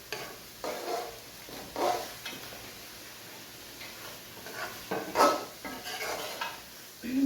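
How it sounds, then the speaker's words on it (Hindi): A spoon scrapes and clinks in a pan as potatoes go into sizzling chicken keema, giving irregular close stirring knocks over a faint background sizzle. "अब हम 1 अदद इसमें आलू ऐड करते हैं"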